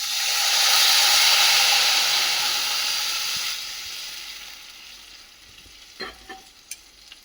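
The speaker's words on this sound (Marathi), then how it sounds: "आणि आता गरम पाणी टाकायचं याच्यात" Hot water poured into a pan of tempered spices for a shengole dish, a loud broad sizzle that swells and then fades over several seconds, followed by a few sharp clinks of utensils.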